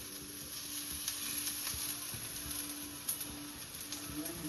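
Pola batter frying on a hot pan gives a steady, close sizzle with small crackling pops throughout, and no talking.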